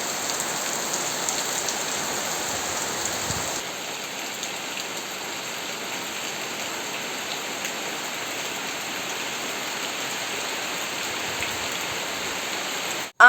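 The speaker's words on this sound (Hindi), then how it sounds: "और बारिश आ गई तब तक" Steady rain falls on surfaces outdoors in a hilly rural setting, a dense, even hiss of drops that continues unbroken, with no voices.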